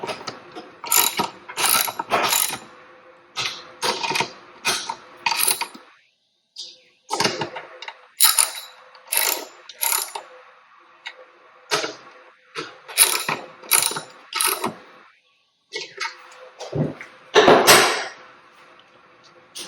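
A ratchet wrench tightens the four mount bolts on a Honda CB500X motorcycle luggage rack, loud close clicking bursts in repeated runs separated by short pauses, with no talk.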